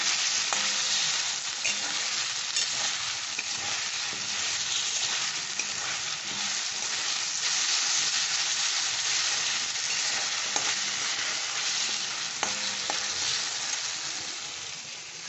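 Marinated chicken for chicken do pyaza sizzles steadily in a hot pan with ginger, a loud continuous crackling fry broken by occasional scrapes of stirring, with no voices.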